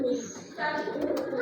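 A breeder pigeon coos in a low, steady murmur close by, with faint chirping overtones.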